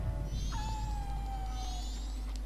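In the video game Zelda Majora's Mask, a single drawn-out cat meow rises and then slowly glides downward, clear and alone over a low, steady game hum.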